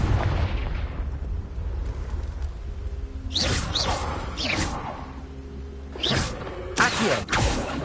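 Fiery Confringo spell blasts in the Hogwarts Legacy video game, sharp whooshing bursts around the middle and again near the end, over a dense rumbling game backdrop.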